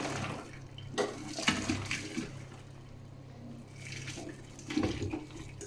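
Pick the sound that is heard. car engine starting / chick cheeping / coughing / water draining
water draining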